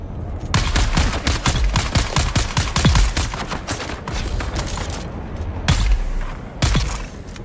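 Rapid bursts of gunfire in Dune: Awakening, dense volleys of sharp shots filling most of the stretch, with brief gaps, loud and close.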